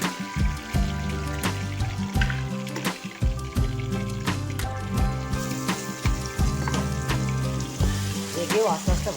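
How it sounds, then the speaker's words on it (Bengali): Fish fries in oil in a pan for a mustard-paste fish dish, a steady sizzle running throughout beneath prominent rhythmic background music. "একেও আস্তে আস্তে ভাজা হতে দেবে"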